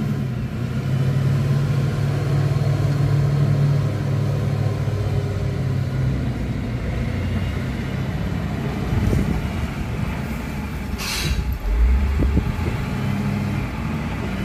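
A Caterpillar 12H motor grader's engine rumbles steadily, a low continuous drone heard outdoors at moderate distance.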